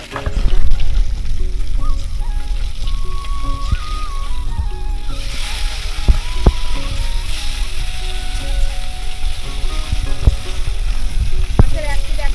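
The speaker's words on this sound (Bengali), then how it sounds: "মাছগুলো ভাজা হতে থাকুক" Fish fry in hot oil in a wok, giving a steady close sizzle with a few sharp clinks of a utensil against the pan throughout.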